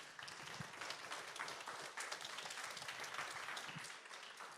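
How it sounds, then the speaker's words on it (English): An audience at a start-up pitching final applauds an award presenter, giving dense, steady clapping that holds evenly throughout without a voice over it. "Everyone, a round of applause for him, please."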